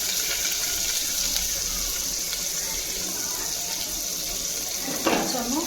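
Onions fry in a hot pan for chicken pulao, giving an even sizzle that is steady and moderately close, with a faint clink near the end.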